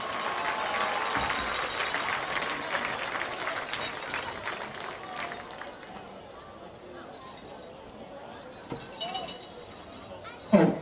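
A crowd at a high school football game applauds the senior cheerleaders, a broad wash of clapping and cheering that gradually thins out, with scattered shouts and voices nearby.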